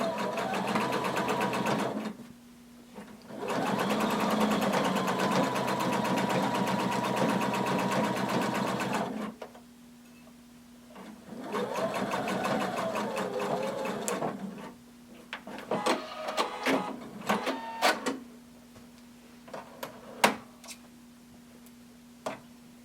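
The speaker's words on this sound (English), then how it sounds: "Going to back stitch and sew to the bottom." A sewing machine stitches a hooded tunic seam, backstitching then running forward in bursts of steady whirring with pauses between, followed by lighter clicks and handling noises near the end.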